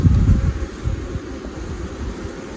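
Honey bees buzz around an opened hive in a continuous close drone, louder at first and then settling into a steady hum, with light wind and handling noise.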